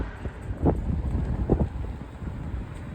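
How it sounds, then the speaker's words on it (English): Wind buffets a DJI wireless clip-on microphone during a ride, making a low continuous rumble with gusty surges throughout, close and loud. "Hopefully this is cancelling out the wind."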